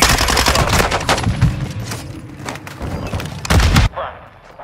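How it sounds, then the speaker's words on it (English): Rapid automatic gunfire in the video game Call of Duty Modern Warfare 2, with loud dense bursts and heavy thumps that run almost continuously before cutting off to quieter background noise. "I'm taking fire!"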